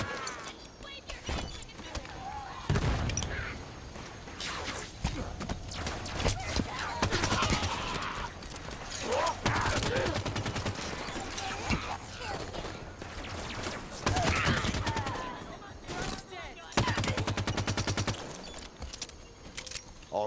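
Halo 5 firefight against Covenant enemies, with repeated bursts of weapon fire crackling through dense battle noise and music, loud and continuous across the whole stretch with sharper volleys near the start and end.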